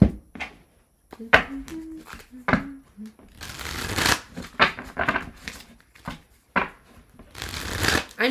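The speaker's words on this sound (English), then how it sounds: "I'm going to shuffle" Tarot cards shuffled by hand in repeated bursts of riffling and slapping, close and fairly loud, with brief pauses between rounds and a voice heard in places.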